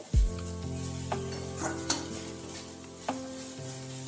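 Red amaranth greens frying in a pan, a close, steady sizzle punctuated by several sharp scrapes and clinks of a spatula against the pan, with no voices.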